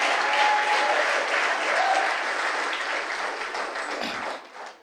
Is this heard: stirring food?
no